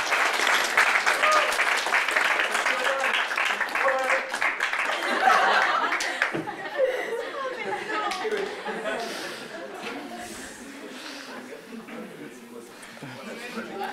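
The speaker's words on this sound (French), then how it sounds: "On peut l'applaudir très fort," Audience applause with scattered laughter and chatter follows a live French-language talk on superconductivity, loud and dense at first, then thinning into lighter clapping and murmurs.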